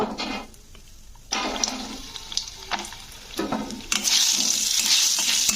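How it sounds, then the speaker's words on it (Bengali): Lentil dumplings (bori) frying in oil in a wok, a bubbling sizzle that breaks off briefly and then returns more strongly, loud and close, with bursts of hissing and no voices. "তো বড়িগুলোকে একটু লাল করে ভেজে দিচ্ছি"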